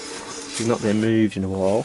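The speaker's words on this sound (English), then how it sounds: "That noise is just a drum brake." A drum brake on a wheel drags as the wheel turns, giving a grinding, rasping rub with a droning tone, close by while someone talks over it.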